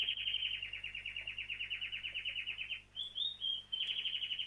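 Birds chirp in a rapid, steady trill of high tweets, then a few separate swooping calls and another trill, clear and fairly close, with no talking.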